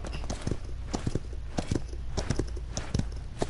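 Horse hooves clip-clop in a Paladins video game match, a quick, uneven run of hard, close hoofbeats over a steady background of game sound.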